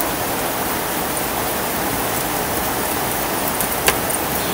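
Steady, dense rainfall hisses evenly throughout at a constant loud level, with no distinct drops standing out and no voices over it.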